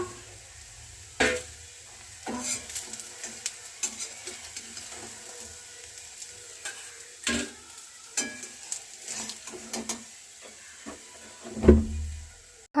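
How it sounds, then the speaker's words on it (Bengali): Banana flower fritters fry in hot oil with a soft continuous sizzle, broken by intermittent clinks and scrapes of a utensil against the pan as pieces are turned, close and quiet. "এক পিঠ ভালোভাবে ভাজা হয়ে গেছে, ওই জন্য দেখো আমি আরেক পিঠ উল্টে নিয়েছি।"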